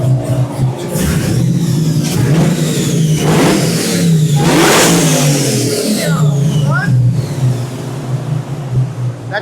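A newly installed 3.6 engine fitted with a Magnuson supercharger revs loudly and steadily, its deep drone filling the whole stretch with rising and falling surges.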